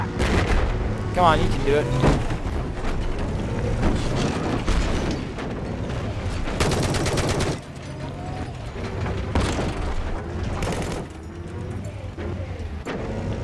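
Tank turret cannon fire in Battlefield 4, with booming blasts cutting through a constant rumble of engine and battle noise while a voice talks over it.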